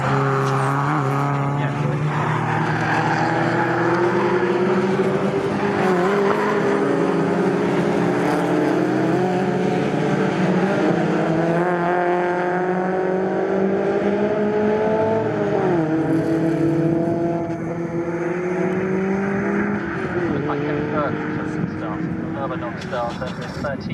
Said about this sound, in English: race leaders they're coming out of Murray with Mike Williams ahead in the way in the Metro